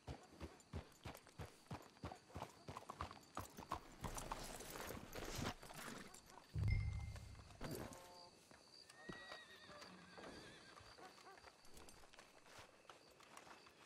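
Horse hooves in the video game Red Dead Redemption 2, a steady clip-clop of close hoofbeats that gives way to a louder burst and a whinny, with people talking over it.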